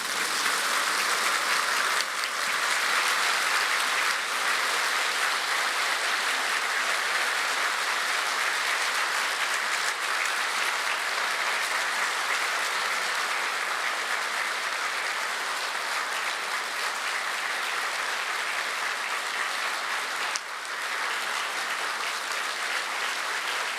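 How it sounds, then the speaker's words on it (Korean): A large congregation at the 2023 joint Easter service of Korean churches applauding, a thick, sustained wash of clapping that holds at a steady loud level for over twenty seconds. "여러분 다시 한번 뜨겁게 감사의 박수를 보내주시면 감사하겠습니다."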